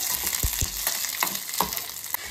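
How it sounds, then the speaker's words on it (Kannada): Garlic, ginger, onion and green chillies roast slowly in a little oil for mushroom biryani, giving a soft, steady frying hiss with occasional stirring knocks up close and no voices. "ಬೆಳ್ಳುಳ್ಳಿ, ಶುಂಠಿ, ಈರುಳ್ಳಿ ಹಾಗೆ ಹಸಿಮೆಣಸಿನ್ಕಾಯಿನ ಹಾಕ್ಕೊಂಡು ಸ್ವಲ್ಪ ಎಣ್ಣೆಯಲ್ಲಿ ನಿಧಾನಕ್ಕೆ ರೋಸ್ಟ್ ಮಾಡ್ಕೊಳ್ತಾ �ಇದ್ದಾರೆ"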